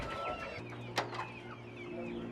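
Chickens in a backyard coop cluck and murmur at close range, with one brief sharper call standing out over a steady low background hum.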